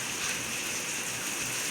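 Steady rain falls on a home balcony, a continuous broadband hiss of drops with no break, soft and even throughout, with no voices.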